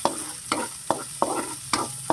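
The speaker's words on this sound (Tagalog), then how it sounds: "Gisa-gisa muna natin ito" Food sautéing in palm oil in a pan for a breakfast dish, with a soft steady sizzle under sharp, rhythmic scrapes and stirs about every half second. Close and fairly quiet, with no talking.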